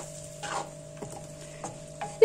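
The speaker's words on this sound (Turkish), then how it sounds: "Yaklaşık şöyle bir 5 dakika kadar kavuruyorum." Baby potatoes are sautéed and stirred in a pan over lowered heat. Soft scraping strokes come every half second or so over a faint sizzle and a steady background hum, quiet and close.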